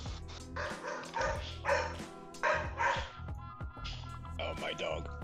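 A pet dog barks and yips in repeated bursts close by, loud, with someone talking over it in a home setting during a live stream.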